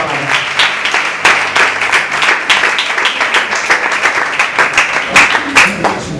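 A church congregation claps loudly and steadily during an evening service, a dense wash of hand claps close by that holds at a constant level throughout.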